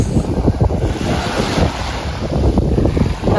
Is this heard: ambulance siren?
no